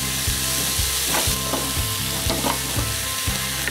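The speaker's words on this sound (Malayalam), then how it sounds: "ഇപ്പം ഈ ചെറിയുള്ളി ഒന്ന് നന്നായിട്ട് വഴന്നു വരണം" Shallots sautéing in a pan for a Kerala pearl spot fish fry, a loud, continuous oily sizzle with rhythmic stirring scrapes, heard close up without talk.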